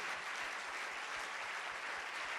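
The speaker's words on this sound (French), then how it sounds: "Levons-nous tous et acclamons" Sustained applause from a church congregation during a large communion service, a dense, even wash of many hands clapping at a moderate distance with no break.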